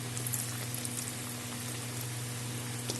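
Chira (flattened rice) luchi frying in hot oil, a steady dense sizzle and crackle that holds evenly throughout with no voices.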